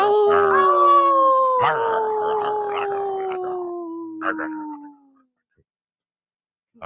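A wolf gives one long, clear howl that slowly falls in pitch, sustained for about five seconds and then fading into silence.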